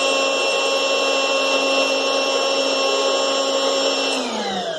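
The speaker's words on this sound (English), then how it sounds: "we're going to turn on the vacuum" A vacuum cleaner with a bucket attachment and bag runs at a loud, steady high-pitched whine and roar, its pitch dipping slightly near the end.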